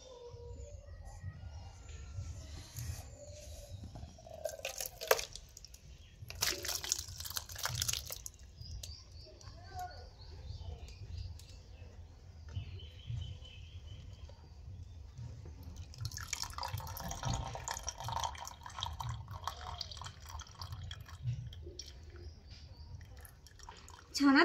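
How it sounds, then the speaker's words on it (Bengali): Whey strains out of fresh chhena through a white cloth, dripping and trickling into a vessel below with soft splashes and wet cloth squishes, close and fairly quiet over a low background hum. "এবার আমি ছানা থেকে জলগুলো ছেঁকে নেব।"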